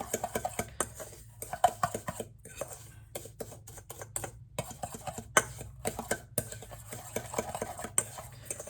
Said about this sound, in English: I'm going to take my fork and stir it again.